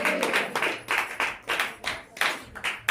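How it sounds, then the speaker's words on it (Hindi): A church congregation claps in bursts of rhythmic, fairly close hand claps, several sharp groups of claps separated by brief pauses, with worship voices in between. "ताली बजाकर कहें हालेलुया,"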